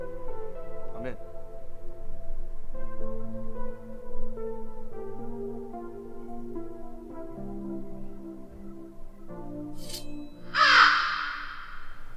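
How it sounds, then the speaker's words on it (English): A crow caws in a tense fantasy film scene, a short harsh burst near the end of the clip, rising over a sustained bed of dramatic music with sparse voices. "When a crow caws three times."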